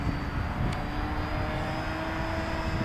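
A radio-controlled trainer model airplane flies overhead, its engine a steady, continuous drone with a constant pitch that stays fairly loud for the whole stretch.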